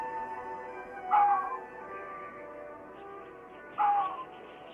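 Two short, sharp barks a few seconds apart, somewhat distant over a steady background hum.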